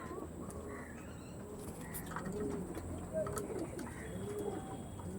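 Tournament-quality flying pigeons coo in a loft, with several soft, low coos repeating at intervals nearby over faint background noise.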